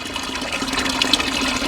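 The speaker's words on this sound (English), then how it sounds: "So we've got 2 taps open, and that's just gravity fed." Water runs by gravity from two open taps on an IBC tank, a steady close splashing and gushing stream that stays constant throughout.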